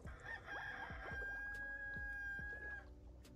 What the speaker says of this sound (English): It's so funny that they have a clam making a crow cock sound.